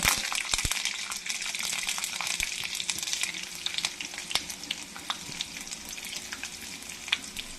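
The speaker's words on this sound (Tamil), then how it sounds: "கடுகு நல்லா பொரியும் பூண்டு போட்டுக்கோங்க" Mustard seeds spluttering and garlic frying in oil for kathirikai kara kulambu, a busy crackling sizzle dotted with sharp pops, loudest at the start and close by, with no voices.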